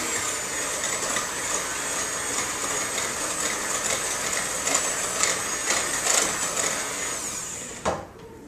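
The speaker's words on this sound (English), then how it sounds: "And we're going to mix this egg in now." An electric mixer beats an egg into batter, giving a steady, close whirring motor whine that holds evenly for about eight seconds before cutting off.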